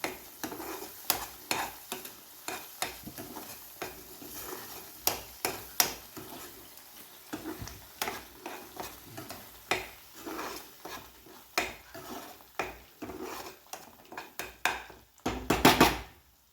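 Sound comes from a pan during cooking: repeated sharp scrapes and clinks of a spoon stirring against the pan over a soft sizzle of oil. The strokes are irregular and close by, grow busier near the end, and no one speaks.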